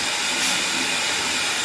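A kettle of water coming to the boil gives off a steady, close, rushing hiss of steam that holds even throughout.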